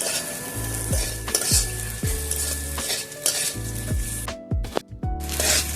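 Vegetables frying in a pan for a Bengali vegetarian ghonto, a continuous close sizzle with repeated scraping and clinking of a spatula against the metal pan in an uneven stirring rhythm, no voices.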